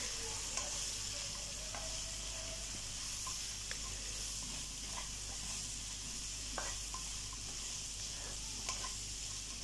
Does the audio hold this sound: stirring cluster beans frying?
yes